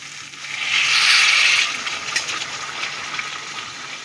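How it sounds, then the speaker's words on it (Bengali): Water is poured into a pan of chhana curry with potatoes, making a bright splashing gush that swells for about a second, then fades into softer sizzling and bubbling. "আমার যেহেতু একটু গ্রেভি থাকবে সেই অনুযায়ী আমি জল দিচ্ছি।"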